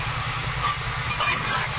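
Loitta fish curry sizzles in a pan while being stirred, giving a steady broadband hiss with a low rhythmic clatter from the stirring, fairly loud and without speech.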